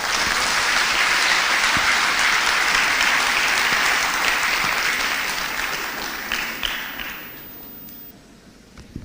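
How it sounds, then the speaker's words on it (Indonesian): An audience claps loudly and steadily after a lecture in Indonesia, a dense sustained applause that gradually tapers off and fades toward the end. "Tepuk tangan yang meriah bagi Bapak Ganjar Pranowo."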